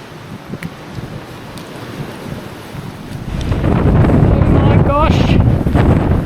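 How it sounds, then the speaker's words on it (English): Strong wind in Western Australia buffets the microphone, growing from a steady rush into a loud, roaring gust in the second half, with a voice briefly heard. "It is wind central."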